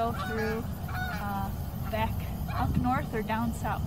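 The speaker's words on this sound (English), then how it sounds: "And if you hear behind me, there's some Canada geese." Canada geese honk repeatedly in the background of a wetland while someone speaks over them.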